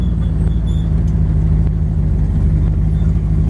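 A 1933 Ford Roadster street rod drives along, its engine giving a steady, close, loud low drone with no talk over it.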